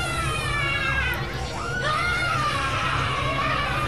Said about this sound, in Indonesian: teriakan itu mulai terdengar bergantian